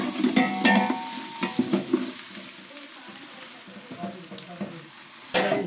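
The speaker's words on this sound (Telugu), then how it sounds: "ఈ చికెన్ అయితే ఈ పోపులో యాడ్ చేసుకోవాలి" Marinated chicken with salt, chili, turmeric and ginger tipped into hot tempering and stirred, loud close sizzling and frying with clattering stirs against the pan, busiest at the start and easing later, with a faint voice in the background.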